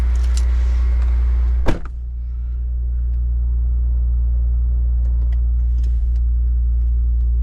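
Acura TLX Type S engine fitted with a PRL high flow air filter catching on a cold start, with a sharp burst at crank, then a loud steady low idle drone that holds.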